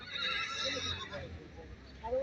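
A horse neighs at a horse market, a loud whinny at the start that trails off, with people talking and market bustle around it.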